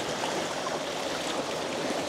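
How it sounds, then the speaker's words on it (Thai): Clothes being washed in stream water, a steady close rush of flowing water filling the short stretch without pause. "ดูเขาซักผ้ากับน้ำลำธารเลยอ่ะ"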